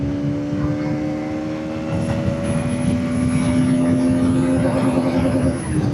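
A Bajaj Pulsar NS200 motorcycle, 2025 model, accelerates hard through its gears, its engine a steady loud drone with rising tonal whine and wind rush, recorded from the moving bike with no speech.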